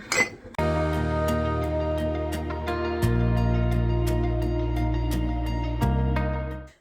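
Glass cups and mason jars clink and ring against each other while being sorted in a kitchen. Sharp bright taps repeat close up over a sustained resonant tone.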